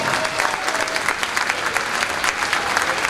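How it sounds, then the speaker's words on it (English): A large audience applauds a high school marching band's drumline coach, a dense, steady wash of clapping that stays loud and even throughout with no talk over it. "How about a big round of applause for our wonderful drumline coach, Mr. Jason Swanson."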